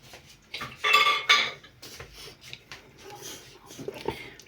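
Paska dough mixture with oil being stirred in a bowl, a few clinking, scraping strokes of a utensil against the bowl, close and moderately loud, then quieter mixing sounds.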